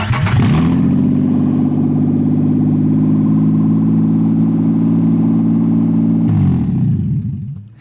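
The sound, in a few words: Nissan VQ engine starting and revving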